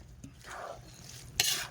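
Pork sisig being stirred in a hot pan, a short close scrape and shuffle of a spatula through the meat with a faint sizzle underneath and a sharper metallic scrape near the end, no voices.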